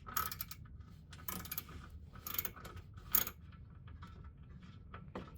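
Quarter-inch hand tools click and ratchet faintly as bolts come out from under a 2008 Acura MDX, with a few sharper metallic clinks scattered through the quiet.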